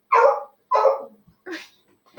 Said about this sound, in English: My dog's going insane again.